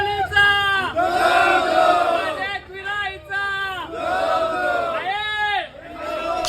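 A dense crowd of devotees at the Ekvira temple, voices chanting and shouting together in loud, surging waves that swell and dip repeatedly, close by and filling the space.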